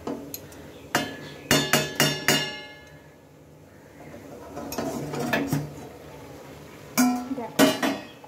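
A metal lid comes off a steaming pot of wheat-flour and chana dal snack, producing several sharp clinks and clatters in bursts with quieter pauses between, close by.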